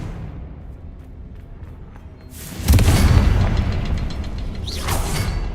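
Confringo blasting spell explosion in Hogwarts Legacy: a quiet lull, then a sudden loud booming blast with a broad crackling roar that sustains and swells again near the end.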